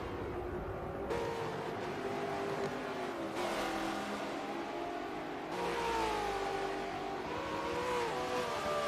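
Supercars race cars running side by side on a circuit, engines roaring and shifting through rising and falling pitch as they accelerate, a continuous loud racing drone with gear changes heard at a distance.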